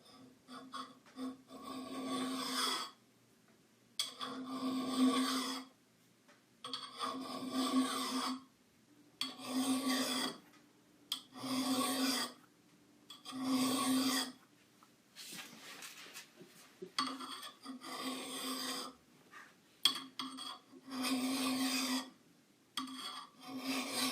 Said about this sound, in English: So we're done filing down the axe.